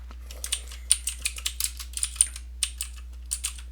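Typing on a computer keyboard while working in Excel, a quick irregular run of close, crisp key clicks over a faint low hum.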